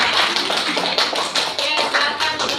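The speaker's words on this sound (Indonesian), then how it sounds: "berikan tepuk tangan untuk kelompok 2" A class applauds a student group in a school biology lesson, with loud, close, rapid clapping in uneven bursts from several people and no speech.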